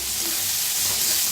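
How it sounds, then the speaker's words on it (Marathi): Onion and tomato roasting together in a pan for a dingri (mushroom) sabzi, giving a steady, close frying hiss with faint crackle that holds level throughout, with no talking. "टमाटरला बी भाजून घेऊया. छान दोन्ही मिळून भाजायचं."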